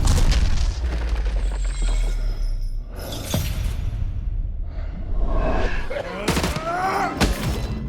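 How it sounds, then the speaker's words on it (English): Explosives blast through a wall in Call of Duty: Modern Warfare 2, with loud booming bursts and crackling debris over a steady rumbling game background, and a second heavy blast late in the clip. "Another nondescript wall in front of us is begging to be exploded, so we oblige"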